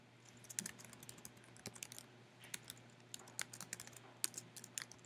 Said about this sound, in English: So this is a macro I'm typing.